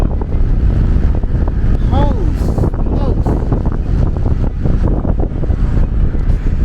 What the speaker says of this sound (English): That's just the wind, guys. That's how bad the wind is right now.